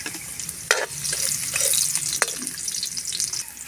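Ginger, garlic and onion sauté in a pan with a bright, steady sizzle, marked by a couple of quick clinks or stirs, plus a faint trickle of water in the background.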